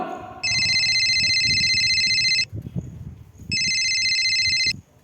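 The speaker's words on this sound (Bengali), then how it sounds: "আবার ফোন।" A telephone rings in two long electronic bursts separated by a short pause, loud and close, with faint movement and background noise between rings.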